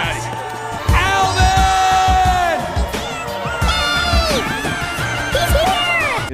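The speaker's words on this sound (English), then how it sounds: "And Alvin hears him through all the buzzing noise and all the people screaming somehow" A crowd screams and yells in a chaotic movie scene from Alvin and the Chipmunks, loud and continuous, with shrill rising cries layered over the roar.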